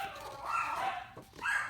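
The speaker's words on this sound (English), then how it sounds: "Oh, please ignore those dogs." Dogs bark and yip outdoors somewhat off in the distance, a few quick, high, whining barks in rapid succession.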